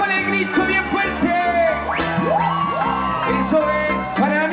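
A loud crowd at a regional beer festival shouting and whooping together, with sweeping rising yells over steady clapping and a dense wall of voices throughout.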